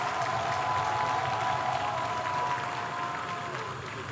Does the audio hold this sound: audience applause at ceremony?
yes